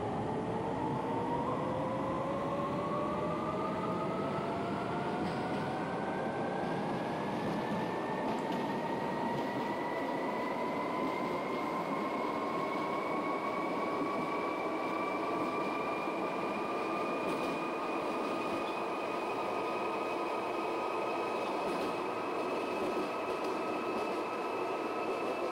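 A London Underground District Line train in the OpenBVE Train Simulator game pulls away slowly, its traction motor whine rising steadily in pitch over a constant rumble of wheels and running noise, loud and continuous throughout.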